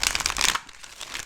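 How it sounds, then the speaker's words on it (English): Tarot cards are shuffled by hand in a quick burst of crisp riffling flutters, loud and close, then softer slides and taps as the deck settles, with no speech. "let's do 4 major shuffles and really pull the energy for the Aries gang watching this reading"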